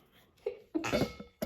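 A single sharp sneeze bursts out of a quiet room during an art class, loud and close, followed by a brief trailing breath.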